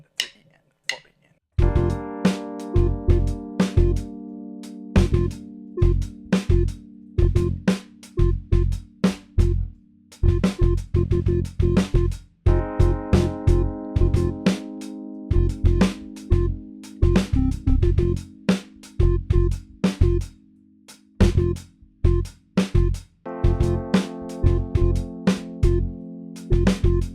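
A band groove with drums keeping steady time, bass and keyboard chords hitting together in punchy, syncopated stabs, loud and close throughout.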